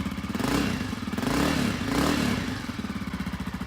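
A Honda CRF250F trail dirt bike idles with a steady close thump, and a few quick throttle blips rise and fall over the idle.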